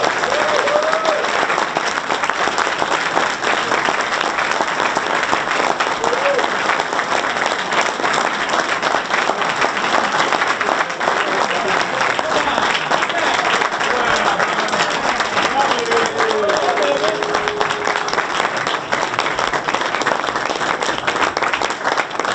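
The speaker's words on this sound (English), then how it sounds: "one more round of applause for these men" Applause from an audience, dense continuous clapping that holds steady and loud throughout, with faint voices and cheers mixed in.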